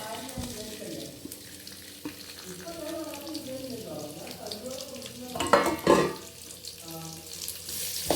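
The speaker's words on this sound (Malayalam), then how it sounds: "ചെറിയ ഉള്ളിയും കരിവേപ്പിൻ്റെ ഇലയും ഇട്ട് വറക്കാം" Shallots and curry leaves fry in hot oil for a curry, a steady close crackling sizzle with stirring scrapes and a louder burst of spitting near the end.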